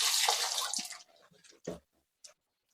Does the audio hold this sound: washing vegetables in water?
yes